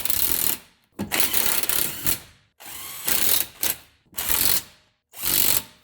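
A low-torque impact gun runs up wheel hub bolts on a 2016 Subaru Impreza during a hub assembly replacement, firing in five or six loud close bursts of rattling hammering separated by brief pauses.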